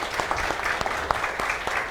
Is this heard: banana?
no